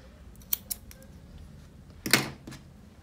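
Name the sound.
scissors cutting yarn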